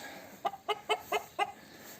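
A Turken chicken clucks five times in a quick, even series, fairly soft and a little distant, over quiet background noise.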